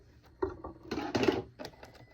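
A sewing machine runs in a few short bursts of stitching while a circle skirt is sewn, with quiet pauses between the runs and no talking.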